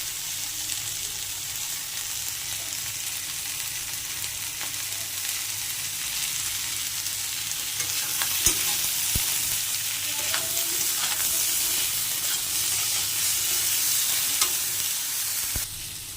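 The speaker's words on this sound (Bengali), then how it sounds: "ভেজে নেব। সয়াবিন আলুর মধ্যে 1 চামচ লবণ দিয়ে দেবো।" Soybean chunks and potatoes frying in a pan with salt added, a steady continuous sizzle with occasional stirring scrapes and clinks, close and moderately loud, no voices.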